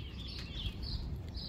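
Light, high chirps from birds come through over a low, steady background rumble, faint and a little distant.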